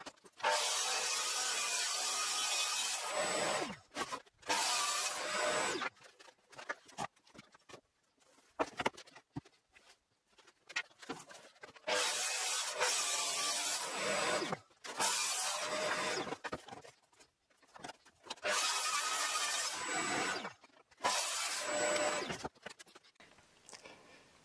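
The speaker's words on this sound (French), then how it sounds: "Finalement, j'ai tout fait à la scie circulaire." Circular saw cutting wooden boards for a large barn door, with several loud sustained cutting bursts separated by short pauses and small clatters of handling.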